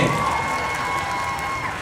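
A crowd applauds and cheers for Jackson Wang at a Nescafé Gold Crema promotional event in Thailand, a steady wash of clapping and cheering that holds at an even level throughout, with no one speaking.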